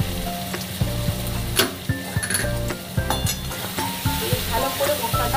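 Spices with tomato and green chilli sautéed and stirred in a pan for a vegetarian cabbage curry: a steady close sizzle broken by repeated metal spatula clinks and scrapes against the pan.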